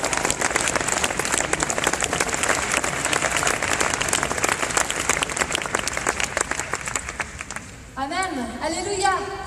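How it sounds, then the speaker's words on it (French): Sustained applause from a crowd at an event in the Forum de Fribourg, dense steady clapping that fades out near the end as a voice begins speaking over it. "Vous pouvez applaudir Elisabeth Roux."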